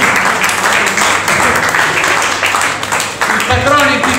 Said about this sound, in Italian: Signori, un applauso per Andrea Nizzi